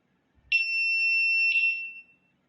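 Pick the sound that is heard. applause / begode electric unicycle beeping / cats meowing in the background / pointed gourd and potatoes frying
begode electric unicycle beeping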